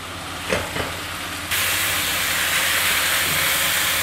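Chicken pieces frying in a pan for Chicken Manchurian, a steady loud sizzling hiss that jumps up sharply partway through and then holds broad and constant, with a couple of brief clinks early on.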